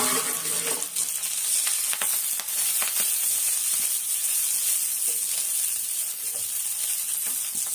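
Dried homegrown drumstick leaves sautéing in a pan with a little ghee, a steady loud sizzle with scraping stirs and light clinks throughout, close up and without talk.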